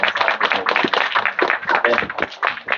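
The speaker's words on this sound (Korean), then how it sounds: "감사의 박수를 올려드리겠습니다" Steady applause from a church congregation at a Sunday service, dense overlapping claps filling the room for a few seconds with no talking.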